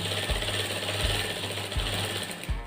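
A sewing machine stitches along the edge of a shirt's fabric with a steady, close mechanical whir and regular low thumps roughly every three quarters of a second, and no talk.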